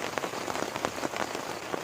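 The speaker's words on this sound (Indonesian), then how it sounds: "Hujan." Steady rain patters on the ground and foliage of a pine forest at Selow Bissoloro as fog settles in, a dense, even hiss with scattered closer drops, continuous and unbroken.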